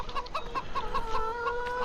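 Chickens in a Farming Simulator 2015 chicken yard cluck in a rapid, regular series of short calls, fairly close and continuous, with no talking over them.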